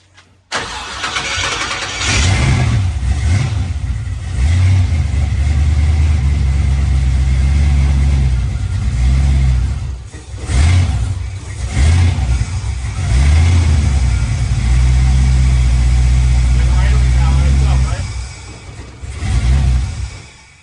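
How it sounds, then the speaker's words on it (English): A 1965 Chevrolet Nova engine cranks and fires, then revs repeatedly in loud surging bursts with brief dips between, close and continuous for about twenty seconds without talk. "Try to start it again. Give it a little gas."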